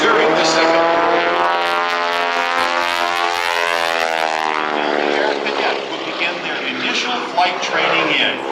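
A Boeing Stearman PT-17 Kaydet biplane's radial engine drones loudly and continuously, its throbbing propeller tone shifting in pitch as the aircraft passes close by.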